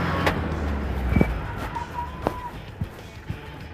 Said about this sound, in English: Let's see what the braking's like.